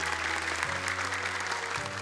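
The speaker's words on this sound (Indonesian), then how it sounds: "Tapi tepuk tangan untuk Kak Nabila." Steady applause fills a studio during an Indonesian Quran memorization contest show, a dense wash of clapping from an audience that carries on evenly for the whole two seconds, with a musical tone held underneath.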